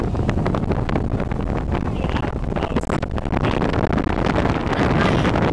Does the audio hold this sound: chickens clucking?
no